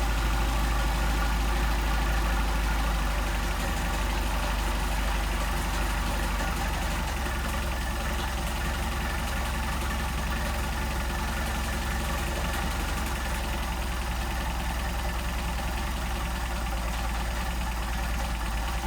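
A Mercedes 190SL engine on Solex carburetors idles at very low revs, a steady, close, unbroken rumble that holds even throughout with no voices over it.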